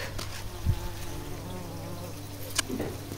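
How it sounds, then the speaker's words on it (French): A bumblebee laden with pollen buzzes around summer hibiscus flowers, a low droning hum that rises and fades as it moves near the microphone outdoors. "Un bourdon là, on le confondrait avec la fleur tellement il est rempli de pollen."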